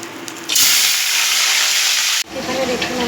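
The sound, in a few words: katla fish pieces frying in hot oil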